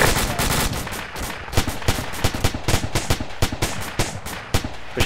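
Rapid gunfire in a military video game, with sharp shots cracking off in quick irregular bursts over a dense background of distant battle noise, loud and close.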